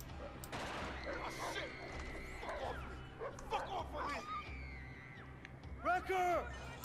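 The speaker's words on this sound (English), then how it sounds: "That's a dog." A dog barks in the Battlefield 4 video game amid game audio and gunfire, with a player talking over it and sharp yelps near the end.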